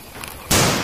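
A toy shotgun fires a single sudden, loud blast about halfway through, a harsh noisy burst that holds steady until the end after a quieter hum.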